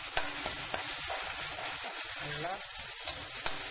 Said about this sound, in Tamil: அரைச்சி வச்சு இந்த தேங்காய் சோம்பு கசகசா அதை நல்லா வதக்கிடுங்க